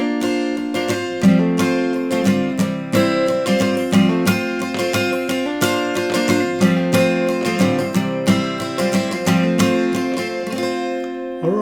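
Acoustic guitar with a capo plays a chord progression, bright steady strumming up close with no voice over it.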